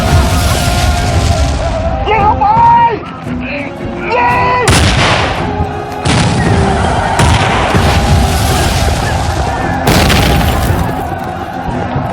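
Heavy gunfire and loud booms in rapid bursts, with shouting voices and other clamor layered over the barrage.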